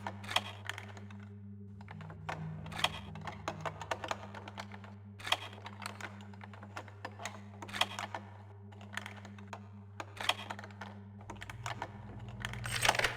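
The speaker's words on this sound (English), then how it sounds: "This time the jewelry box needs to be picked open." A lock is picked on a jewelry box in the stealth game Thief, a run of sharp, dry clicks and taps arriving in irregular clusters over a low steady hum, close and fairly crisp.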